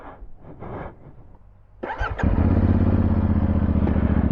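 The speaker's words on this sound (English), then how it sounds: "that's deep sound, you know, of a twin" The twin-cylinder engine of a CFMoto 450MT motorcycle starts up close by after some quiet clatter, then settles into a deep, loud, steady idle.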